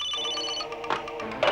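A mobile phone ringtone plays in a tense indoor scene, a steady electronic tone close by that is briefly overlapped by other sounds, with no speech during the ring.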